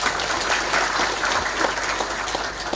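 A large audience at an academic graduation ceremony at a state polytechnic applauds with a dense, loud wash of clapping that stays steady and unbroken from start to finish.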